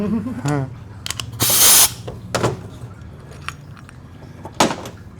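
Spray can squirted during piston work on a 4L60 transmission, one short loud hiss near the middle amid clicks and metallic knocks, with a brief voice at the start.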